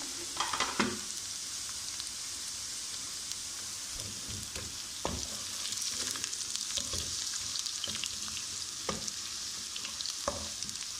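Steady, loud sizzling of garlic frying in hot oil, with occasional scraping and stirring clicks from a utensil against the pan.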